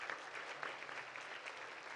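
An audience at a leadership forum claps, a soft, distant patter of many hands spread evenly across the short stretch, faint and continuous.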